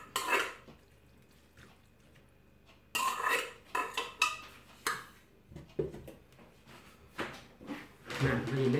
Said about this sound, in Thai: ตำข้าวปุ้นใส่กะปิ สูตรน้องชายนะจ๊ะ